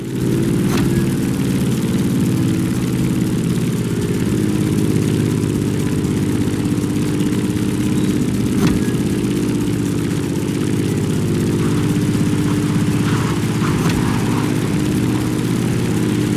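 A propeller plane engine in The Crew Motorfest video game drones steadily at close range, a low throbbing hum with a few faint clicks over it.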